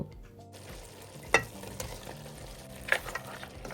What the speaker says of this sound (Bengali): মাটনটা খুব ভালো করে কষানো হয়ে গেছে